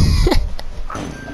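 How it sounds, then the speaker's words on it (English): A single short cough bursts out near the start, close and fairly loud, over a steady background hum. "Sorry, I had a cough."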